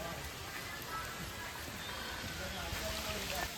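Steady rain patters on surfaces in a continuous wash of noise, moderately close, with no clear voices over it.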